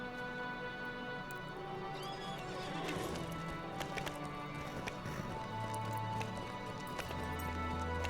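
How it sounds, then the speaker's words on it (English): A horse in the Lord of the Rings Online game, near a housing area, moves with steady clip-clop hoof beats under a continuous game ambience and music bed, moderately loud and constant throughout. "can I get on my horse here?"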